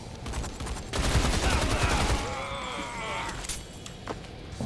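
Enemies open fire in the first-person shooter Rise of the Triad, a dense burst of rapid gunshots that swells loudly for about two seconds before thinning into scattered shots and game effects.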